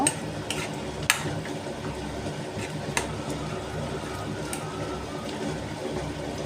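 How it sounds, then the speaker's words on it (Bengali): Pabda fish kalia ingredients being worked together by hand, a soft continuous wet squelching and stirring texture close up with a few sharper clicks, no talking. "ভালো করে মাখিয়ে নেব।"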